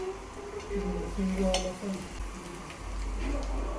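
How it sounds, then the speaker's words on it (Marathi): A spiced chili-and-salt mixture is stir-fried in a pan, giving a soft continuous sizzle with scraping and clinks of a utensil against the metal. A person speaks faintly in the background. "आता हे मिश्रण चांगलं परतून घेतोय."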